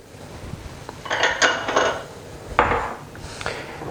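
A utensil stirs butter and sugar as they melt in a pot for churros, giving close scraping and clinking strokes against the pan that come in uneven bursts, with no voices.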